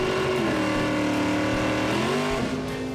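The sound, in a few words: race car engine roaring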